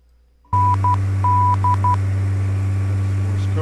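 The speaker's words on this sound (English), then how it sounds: "That's Morse code." An aircraft's nav radio plays a beacon's Morse code identifier for the Yardley station: a clear series of short and long tone beeps over a steady, loud cockpit engine drone.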